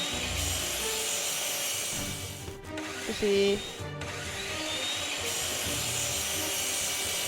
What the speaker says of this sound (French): utiliser la scie pour découper le verrou de la ventilation